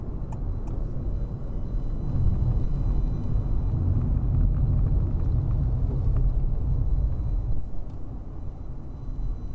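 A Honda Fit e:HEV hybrid car accelerating onto an expressway, heard from inside the cabin as a deep continuous road and tire rumble that swells slightly and holds steady, with no voices.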